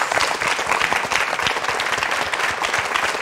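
A studio audience at a KBS morning television lecture special breaks into dense, sustained applause, many hands clapping together at an even level for a few seconds.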